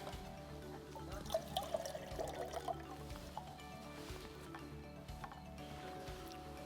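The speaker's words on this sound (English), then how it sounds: "Put in some water." Water is poured into a Jetboil stove pot outdoors, a soft brief trickle and splash near the start, faint and close.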